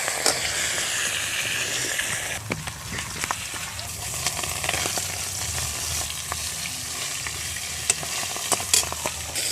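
A rohu fish head fries in hot oil with a continuous loud sizzle and crackle, with scattered spatula scrapes and a faint voice in the background.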